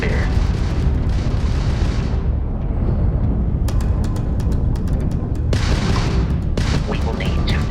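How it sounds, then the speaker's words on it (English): Crimson Fleet ship weapons fire during space combat in the video game Starfield, a loud roaring barrage of booms and crackling bursts layered over a continuous heavy rumble. "that's a Crimson Fleet ship bringing its weapons to bear"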